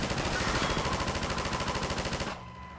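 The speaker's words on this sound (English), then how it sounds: "Or I could just use the minigun." A minigun fires in a video game, a loud, continuous rapid rattle that runs for just over two seconds, then cuts off abruptly, leaving a faint hum.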